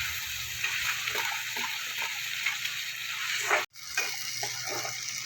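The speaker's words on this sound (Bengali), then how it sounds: "একটু কিছুক্ষণ মশলাটা আমি কষিয়ে নেব" Spice paste (masala) with Kashmiri chilli sautéing in a pan for Bengali-style pomfret, a steady broad sizzle with light scraping and stirring, briefly cut off near the end before resuming, with no talking.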